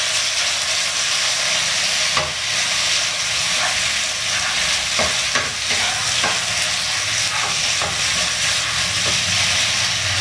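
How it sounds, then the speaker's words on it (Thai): Noodles for pad see ew stir-fried in a hot pan, a loud steady sizzle and hiss with scattered scraping and clattering of the spatula throughout, no talking. "มันร้อนแล้วก็ใส่เส้นลงไปผัดนะครับ"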